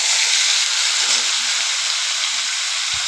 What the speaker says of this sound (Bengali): এবার চিকেনটা ভালো করে ভেজে নেব।